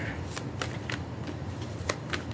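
Tarot cards are shuffled close up in a string of quick riffling bursts over a few seconds, with no talking.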